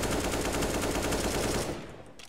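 AK-47 spray fire in Counter-Strike: Global Offensive, a rapid continuous automatic burst of loud gunshots lasting about two seconds, then stopping abruptly.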